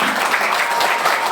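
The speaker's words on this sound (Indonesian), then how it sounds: "tepuk tangan buat kita semuanya" An audience claps steadily and densely at an Isra' Mi'raj celebration, the applause filling the whole moment without pause.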